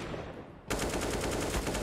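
Sustained automatic gunfire from a competitive Counter-Strike match in the CCT Central EU qualifier, a dense rapid burst of shots kicking in abruptly after a quieter stretch and continuing loud and unbroken.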